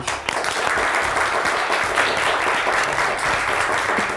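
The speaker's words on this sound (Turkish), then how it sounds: "Hadi onlara da bir alkış." A Turkish quiz show studio audience bursts into loud, sustained applause, a dense, even patter of many hands clapping close by for several seconds.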